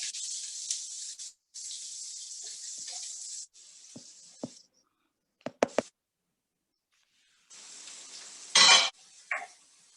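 Bursts of steady hissing sizzle from two small finely chopped onions frying in a pan, broken by pauses and a few sharp clinks of a utensil against the pan.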